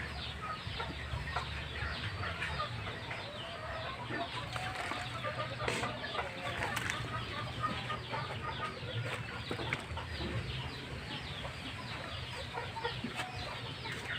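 Birds calling around a termite mound being dug outdoors, a dense chorus of clucking and chattering calls at moderate distance over a steady background wash, with no talk.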